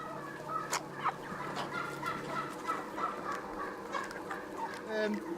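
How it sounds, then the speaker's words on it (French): Free-range farm chickens moving between a barn and an outdoor aviary cluck and squawk continuously, many birds overlapping at close to moderate distance within a busy, steady flock din. "Les poulets évoluent à leur gré entre le bâtiment et la volière extérieure."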